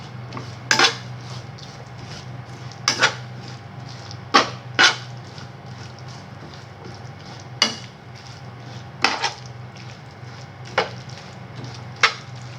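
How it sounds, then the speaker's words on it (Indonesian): Napa cabbage being stirred in a frying pan for homemade mie goreng, with a utensil scraping and clinking against the pan in about nine sharp, spaced knocks over a steady low hum. "selanjutnya kita masukin sawi putihnya. Kita aduk."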